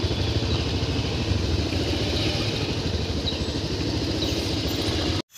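A motorcycle engine idles steadily up close in a parking spot near a temple festival gate, a continuous low rumbling chug that cuts off abruptly at the end.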